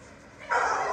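Several dogs and puppies barking and yipping at night at 1 a.m., a burst of loud, close barking that rises sharply halfway through the short moment.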